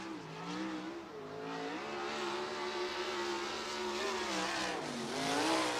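A USAC sprint car laps Bridgeport Speedway into turns 3 and 4 during the Eastern Storm series, its engine a steady, loud, high-pitched roar that shifts slightly in pitch as it drives through the corner.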